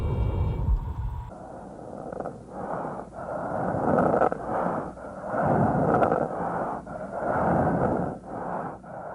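Wheezing death-rattle breathing from the video game Silent Hill 2: slow, rasping, gurgling breaths rising and falling in a steady rhythm, loud and close, following a brief burst of other noise at the start.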